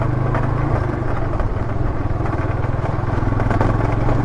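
A Harley motorcycle rides a wild, rough, muddy road, its engine a loud continuous rumble close by with clattering over bumps and no talk.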